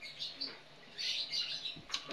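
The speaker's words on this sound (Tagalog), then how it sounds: "Mga huni ng ibon, mga lovebirds" Pet lovebirds chirp in a home kitchen, with several quick high tweets in short bursts, fairly close and clear against a quiet background.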